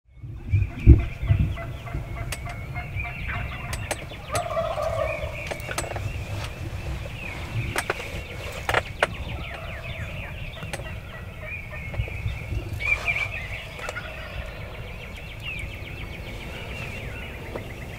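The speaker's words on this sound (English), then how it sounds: "I think there's at least 2 or 3 toms in the group, a bunch of jakes and some hens." Wild turkeys in a Kansas field, a group of toms, jakes and hens, gobble repeatedly in scattered bursts at moderate distance over a steady outdoor background.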